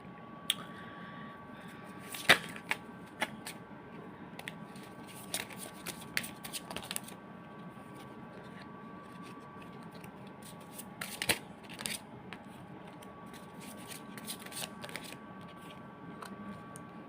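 Tarot cards being shuffled by hand, soft riffling and sliding with occasional sharper snaps over a steady faint background hum, fairly quiet and close.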